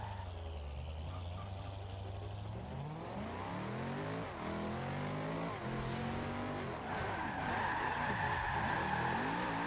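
A video-game car drifts sideways in Forza Horizon 2, likely the Porsche 918 Spyder or Bugatti Veyron Super Sport, its engine revving and swooping in pitch as tires squeal continuously, loud and close throughout.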